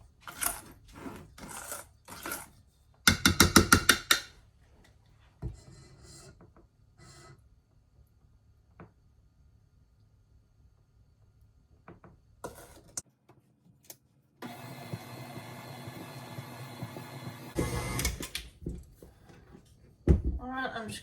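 A stand mixer with a paddle attachment combines a batter in a home kitchen, its motor running as a steady whirring drone for a few seconds between scattered clatters and stretches of talk.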